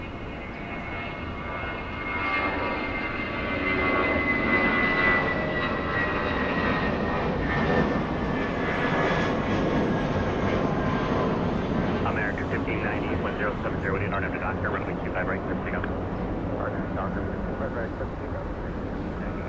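American Airlines Airbus A320 airliner departing Los Angeles International Airport, its engine roar building and holding steady, fairly loud, while a voice talks over it.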